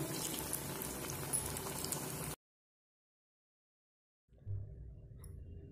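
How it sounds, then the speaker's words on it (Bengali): Battered eggplant fritters (beguni) sizzle in hot oil with a steady bubbling hiss. The sound cuts to silence midway, then resumes more faintly. "3-4টে করেও কিন্তু এই বেগুনি ভেজে নিতে পারেন।"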